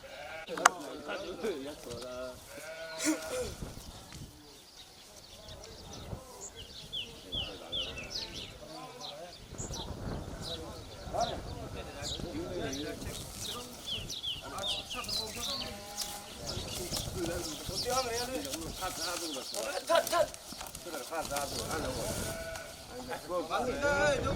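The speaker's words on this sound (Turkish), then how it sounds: "Bunlar koyun." Sheep bleat repeatedly at close range on a farm, the calls overlapping and recurring throughout amid a busy flock, with people talking and calling out over them.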